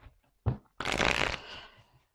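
A tarot card is put down on a table: one soft tap, then a brief papery slide and rustle of the card across the surface, close and alone.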